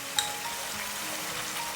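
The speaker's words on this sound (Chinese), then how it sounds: "然后再给它煸炒一下" Potatoes and green peppers stir-frying in a wok, a soft steady sizzle with faint crackle and one small clink near the start, brief and close, with no talking.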